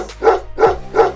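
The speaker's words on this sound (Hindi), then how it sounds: "तेरा तो भौंकना भी भाऊ भाऊ जैसे है, जबकि हमारा भौंकना है एक असली कुत्ते वाला।" A dog barks three times in quick, evenly spaced succession, loud and close, with no other sound over it.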